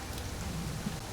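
Steady rain falls in the autumn setting of Assassin's Creed Shadows, mixed with wind. It makes a dense, even hiss with no distinct drops standing out and no voices.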